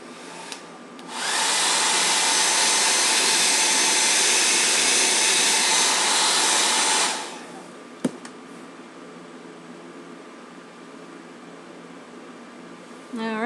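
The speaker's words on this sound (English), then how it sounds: "now I'm going to hit it with the blow dryer until it's flappy." A hair blow dryer switches on with a loud, steady broadband rush for about six seconds while drying a Jamberry nail shield, then cuts off; a sharp click follows and quieter room sound remains.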